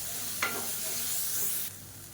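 Mint and coriander leaves sautéing in a pan for a chutney, a steady close sizzle with a brief stirring scrape near the start, then the frying hiss drops off abruptly toward the end.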